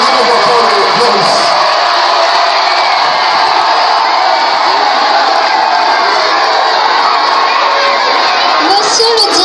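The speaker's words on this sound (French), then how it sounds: "Voilà, on l'applaudit, Badjel Noura" A large crowd of schoolchildren at a school event cheers and shouts loudly and continuously, a dense roar of young voices that fills the whole stretch.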